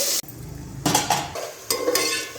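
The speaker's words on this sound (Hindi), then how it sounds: "1 मिनट के लिए हम टमाटर को फ्राई कर लेते हैं।" Finely chopped tomatoes dropped into hot oil with onions for a sweet potato salan, giving short bursts of sizzle with clanks of a utensil against the pan, close and brief.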